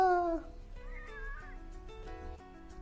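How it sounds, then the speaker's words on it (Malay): A stubborn pet cat gives a clear, drawn-out meow close by, then follows with softer, shorter mewing calls. "Nak kenalkan ni kucing yang degil."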